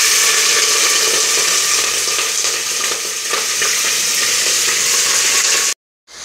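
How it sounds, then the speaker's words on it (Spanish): Shrimp shells and heads dropped into very hot oil in a pot, a loud, close, continuous sizzle and crackle of frying that cuts off abruptly near the end. "El aceite en la olla bien caliente,"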